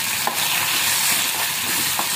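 Curry leaves crackle in hot oil along with frying chana dal, onion and green chilli while cooking a goat blood stir-fry, a steady dense sizzle throughout with a few sharper pops and no talking.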